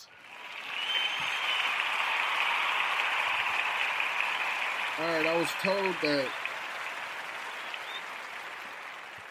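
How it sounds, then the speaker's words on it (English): Studio audience applauding for fall sports and football, a steady broad wash of clapping that fills most of the span, with someone briefly speaking over it midway before the clapping tapers off. "Give me some claps."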